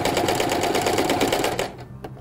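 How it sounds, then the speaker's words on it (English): Sewing machine stitching with thread tension turned up to maximum, a fast steady mechanical rattle of needle strokes running for under two seconds, close and loud, then stopping abruptly. "Just stitch a little bit"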